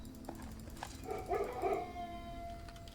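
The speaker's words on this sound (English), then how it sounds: "Puppies." Puppies in the video game Blue Prince give soft, faint yips and whimpering howls, a short cluster of small dog sounds with no talking.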